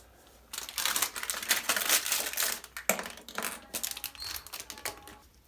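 Close, busy plastic-and-metal clicking and ratcheting as a nut is put on and tightened down on a Members Mark toilet during installation, dense irregular bursts after a quiet start, with a short pause midway, no voices.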